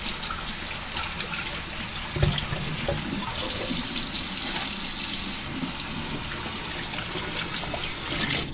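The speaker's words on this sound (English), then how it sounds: "So let me wash my hands." Hands are washed under a running kitchen tap, with a loud, steady rush of water and splashing throughout, plus a brief knock near the start.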